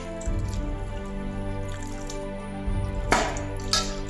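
Mango pieces for pickle being washed in water, with steady drips, splashes and squishy handling sounds at close range, a louder splash near the end.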